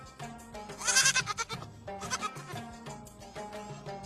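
A goat being held gives a single quavering bleat near the start, fairly faint. Softer rustling and small handling noises follow in a quiet outdoor setting, with no voices.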